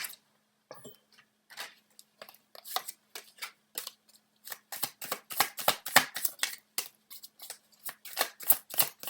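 Tarot cards are shuffled close up, with crisp, rapid riffling bursts in quick irregular clusters that grow denser and louder toward the end.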